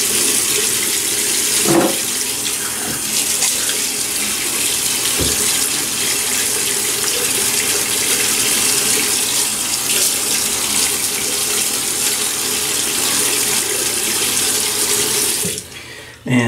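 Steady, loud water running from a tap into a sink to wet the face before a shave, a continuous rushing stream that cuts off near the end.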